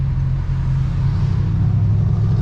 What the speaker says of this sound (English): It's a big ass truck.